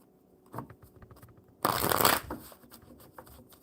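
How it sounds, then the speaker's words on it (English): A deck of playing cards being shuffled during a casual card-reading session, with a brief loud riffle burst in the middle amid quieter handling clicks and taps close by. "Oh, I think I better shuffle them one more time."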